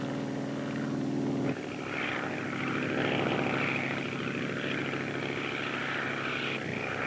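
Spirit of St. Louis propeller plane flying over the ocean, a steady droning engine and propeller hum that holds loud and continuous throughout, with a brief shift in tone partway through.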